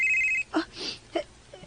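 A telephone rings in short electronic bursts, a steady tone at first and then broken by louder thumps and rustles, fairly close.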